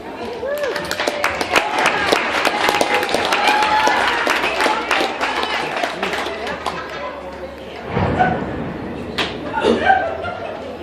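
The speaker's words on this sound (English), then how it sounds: "Big round of applause." A lively crowd at a recovery festival ceremony claps loudly and steadily, with chatter and laughter mixed in, then the clapping thins as voices and cheers rise near the end.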